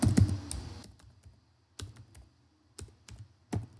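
Computer keyboard typing in Notepad while an HTML body tag is entered: a dense burst of key clicks at first, then short separate clusters of taps with pauses between, close and moderately loud, no voices.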